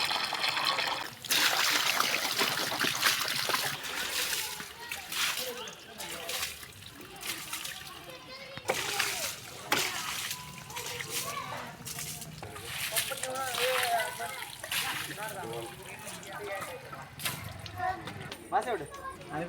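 Water splashes and trickles in bursts while a vehicle covered in mud is washed down on a rough village road, with someone talking over much of the running water.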